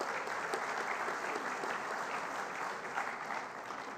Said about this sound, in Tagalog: Yung pumalakpak